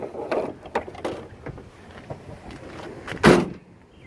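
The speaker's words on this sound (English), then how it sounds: "Shut the doors down and you are ready to roll." Doors of a 2004 Ford Econoline E-150 XL wheelchair van swing shut, a few soft thuds and rattles leading to one loud close-range slam near the end, no voices.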